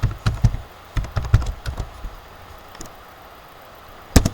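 Keys clack on a computer keyboard in quick, irregular bursts of close, crisp taps, then a pause and a final sharp keystroke.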